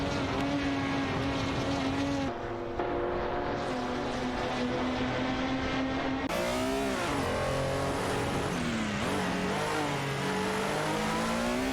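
Racing-game engines of a Shelby Cobra 427 SE and a Chevrolet Corvette C3, loud continuous droning with rising and falling revs and gear shifts, one engine tone cutting in abruptly partway through, no speech.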